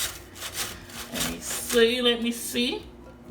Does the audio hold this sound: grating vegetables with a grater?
yes